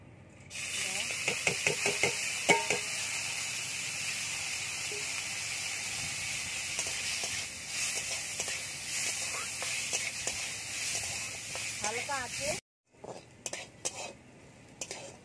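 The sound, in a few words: lentils frying in a little oil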